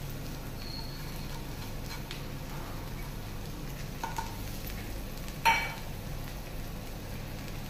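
Spices stirred in a frying pan while cooking chicken biryani, with a steady low sizzle and soft scraping throughout and one brief clink near the end.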